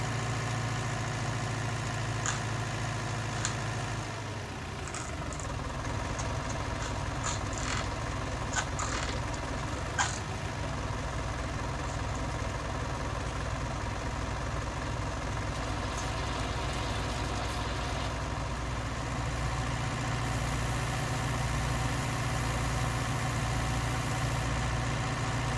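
A tractor engine rumbles at idle during the 1966 sugar beet harvest, a steady low drone with a change in tone partway through and some faint clicks and knocks, with no voices.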